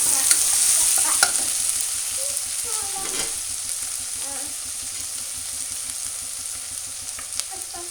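Vegetable pulao being stirred in a frying pan, a steady close sizzle with scraping stir strokes throughout.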